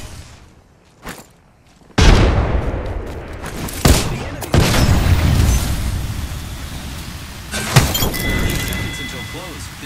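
A frag grenade detonates in a battle royale video game with a sudden loud blast and crackling debris, followed by further sharp bursts and impacts, with a voice talking during the action.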